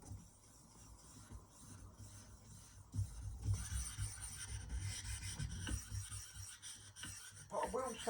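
A VG10 stainless steel knife blade is drawn across a water-soaked whetstone, giving a quiet, gritty rasping in repeated strokes that grows louder and more continuous after a few seconds, close and without talk.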